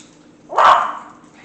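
A pet dog lets out a single loud, close bark, sharp and slightly drawn out, in an otherwise quiet kitchen.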